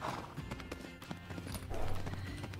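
Horse hooves in the Tales of Rein Ravine riding game, a quick rhythmic clip-clop of hoofbeats at close range, with a snort or whinny toward the end and a faint voice in the background.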